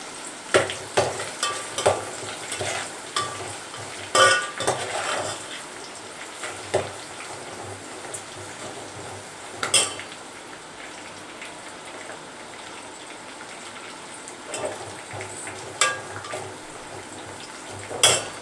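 Chopped onions fry with seasoning seeds in oil left over from frying fish, giving a steady close sizzle broken by regular scrapes and clinks of a spoon stirring the pan.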